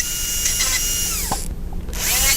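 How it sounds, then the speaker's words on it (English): A high-pitched dental drill whines close up as it cuts an access cavity into a tooth. Its pitch sags under load, it stops for a short gap, then it spins back up, with no talk. "Try to avoid drilling on the floor of the chamber for any length of time."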